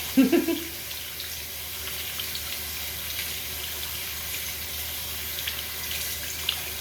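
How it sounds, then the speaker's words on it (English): Makeup brushes rinsed under running tap water at a sink, a steady continuous water flow with a few brief louder splashes at the start, no voices. "So you want to make sure you rinse it out very, very good."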